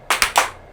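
Three sharp hand claps in quick succession before filming, close and loud, each with a short ring-out and no voices.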